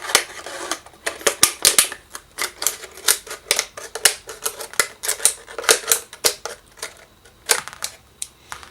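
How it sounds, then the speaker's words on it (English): Plastic bottle being cut near the top where it narrows, a rapid series of sharp, crisp snips and crunches in an irregular rhythm, close and fairly loud with short pauses between bursts. "we're just going to go ahead and cut the bottle."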